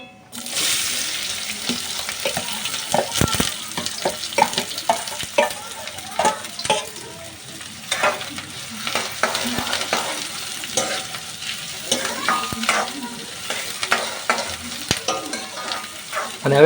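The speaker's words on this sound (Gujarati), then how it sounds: "હવે આપણે નાખીશું કાંદા" Chopped onions sizzle steadily in hot oil for egg bhurji, with repeated scraping strokes of a spoon through the pan over continuous close frying noise.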